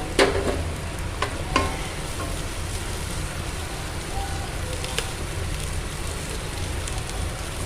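Egg fried rice ingredients sauté in a hot pan with half a spoon of salt, giving a steady close sizzle with occasional spatula scrapes and clinks and no talk.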